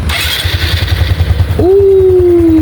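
A Honda Supra X 125 FI motorcycle, about a year old, starts up after a burst of starter cranking noise. It then settles into a steady, close idle hum that carries on to the end.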